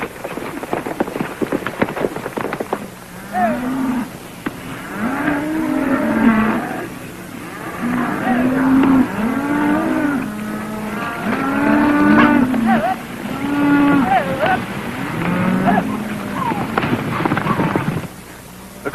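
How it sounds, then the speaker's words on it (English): Cattle lowing during a cattle drive on the range, repeated moos from several animals overlapping, fairly close and loud over a noisy, rain-like background hiss. "And Benson, don't push the cattle too hard."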